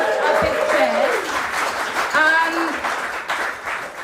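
An audience at a poetry slam breaks into loud sustained applause and cheering, with a voice briefly speaking over the clapping.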